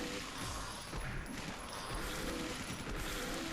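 Gunfire in the Onechanbara: Bikini Zombie Slayers game, a dense, continuous roar of rapid shots blended with game noise, steady and fairly loud without a break.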